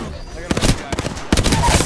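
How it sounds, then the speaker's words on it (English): Short bursts of gunfire in Apex Legends, a few sharp shots in quick clusters, close and loud, with a voice between them. "Shot fired."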